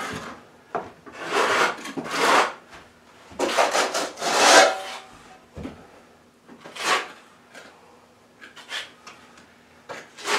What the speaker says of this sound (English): you're going to try to clean the edges back to their old plaster surface